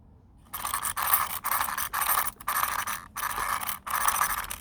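Traxxas Slash 4x4 RC car with a 2054 motor and metal spur gear whirring in repeated bursts, revving up and cutting off about six times, close and fairly loud with no talk.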